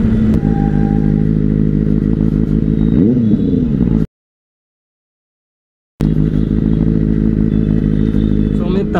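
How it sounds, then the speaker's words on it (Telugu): A Benelli 600i motorcycle cruising on a highway toward Vizag gives a loud, steady engine drone mixed with wind rush, cut by a brief silent gap before the engine resumes. "So we are travelling on the బెనీలీ 600i towards Vizag."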